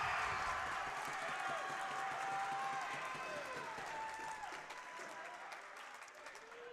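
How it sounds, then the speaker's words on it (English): Crowd at a JV high school basketball championship game cheers and applauds loudly and continuously in a gym, a broad roar that eases slightly toward the end, with voices mixed into the noise. "Great crowd reaction"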